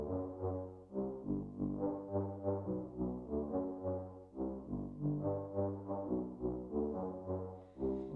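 Wavetable-synthesized flute pitched down into a grime-style mid bass, playing a steady pulsing riff of deep, hollow, rounded notes with short attacks, clear and alone.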